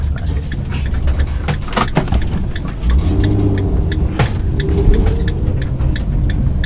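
A van engine rumbles steadily at close range while maneuvering, idle tones shifting as it moves, joined by clicks, a metallic jingle and a few sharp knocks.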